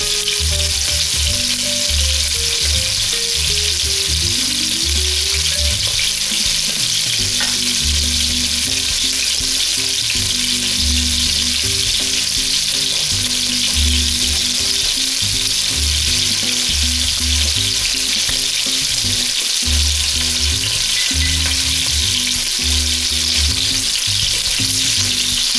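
Beef browns in a hot pan for beef bourguignon, a loud, steady sizzle and crackle of frying fat that continues unbroken throughout, with no voices.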